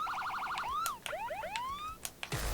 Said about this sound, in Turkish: Değişik korna sesleri